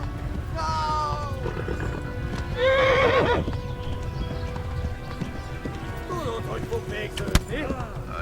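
Horse hooves clip-clopping at a gallop in Kingdom Come Deliverance, mixed with a whinny and game voices and battle noise, a steady rhythmic drumming under the commotion.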